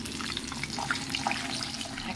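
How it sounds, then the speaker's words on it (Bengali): Hilsa fish sizzles steadily in hot oil in a kitchen pan, an even close hiss dotted with faint pops and crackles throughout. "আর এইদিকে ইলিশ মাছটা ভাজছি"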